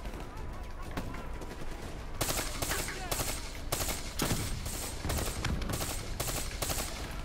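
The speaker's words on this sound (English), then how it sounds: "Some more gunfire" Gunfire in Call of Duty Black Ops 3, loud bursts of automatic fire and shots crackling in clustered volleys over a rumbling battlefield backdrop.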